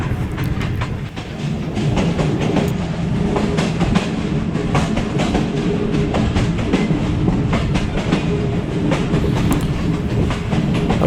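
Allama Iqbal Express running between Sialkot and Lahore, heard from on board: a loud, steady rumble with repeated clickety-clack of wheels over rail joints throughout, no voices.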